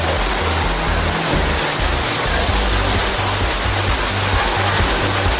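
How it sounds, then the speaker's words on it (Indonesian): The Curug Cipurut waterfall in Purwakarta roars with a dense, steady rush of falling water, loud and close, with no pause and no voices. "akan merasakan kedamaian dari deburan air terjun Cipurut ini"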